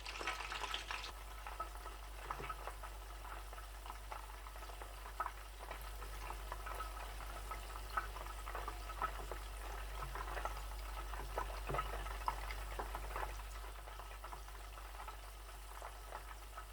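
Chicken drumsticks frying in a pan give a faint, steady crackling sizzle with a low hum underneath, quiet and continuous with no talking.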